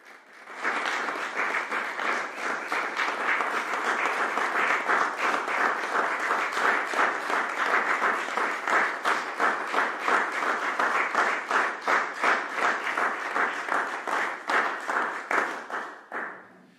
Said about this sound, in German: Nochmal einen kräftigen Applaus von allen an unseren Peter Höckner.